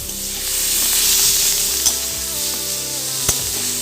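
Sugar is stirred into watermelon rind curry frying in a pan, which sizzles loudly and close with a couple of sharp spatula taps against the pan.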